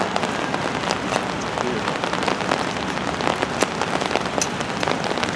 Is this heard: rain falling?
yes